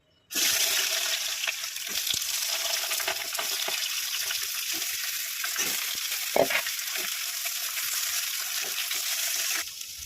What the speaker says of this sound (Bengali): তেলটা গরম হয়ে গেছে, আমি বেগুনগুলো ভেজে নেব।